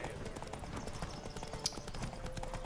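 Horse hooves pounding in a fast, steady galloping rhythm during a horse race in The Witcher 3 video game, close and continuous over background game sound.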